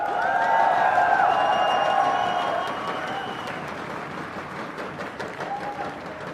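Esports crowd at the IPL4 Grand Finals cheering and applauding loudly as one mass of clapping and shouting, strongest at first and easing to a lower, steady roar.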